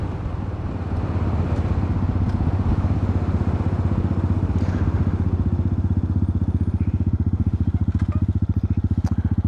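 Honda Hawk 250 motorcycle engine revving hard and shifting through gears, a loud, close, steady rasping drone whose pulsing firing rhythm tightens as it climbs in the later seconds, with no talking.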